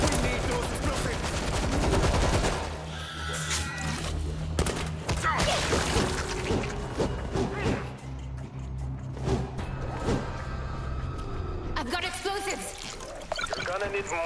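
Rapid bursts of gunfire from the zombie shooter World War Z, a dense fusillade of shots running almost nonstop, with shouted voices mixed in over the din.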